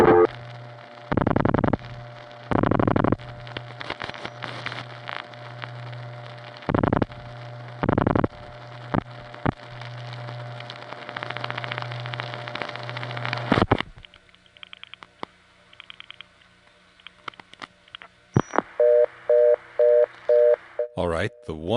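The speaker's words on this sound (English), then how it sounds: "the one dialed by Amsterdam Tandem made it go to reorder" Telephone tones on a 1976 life insurance tie-line, with repeated on-off tone bursts, a steady hum and later a fast interrupted reorder signal, clear and close over line noise.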